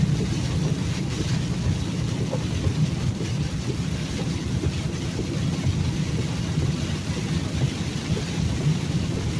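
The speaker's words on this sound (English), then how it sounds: "we're gonna get through this rain" Heavy rain drums steadily on a semi truck while a low engine and road rumble runs underneath, continuous and close with no pauses.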